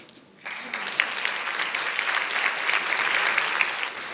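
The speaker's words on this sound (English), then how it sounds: "you have to give the rhythmic at the team another round of applause" Sustained applause from a crowd at a labour market forum, starting abruptly and continuing evenly as a dense wash of clapping throughout.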